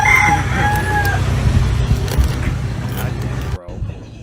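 A rooster crows loudly over steady clucking chickens, the crow rising early and then fading while the hens keep up a busy, close background of clucks.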